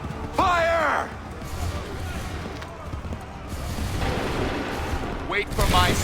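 A musket volley fires in the Assassin's Creed III video game: a loud burst of gunfire early on, then a rumbling decay, with shouted voices around it.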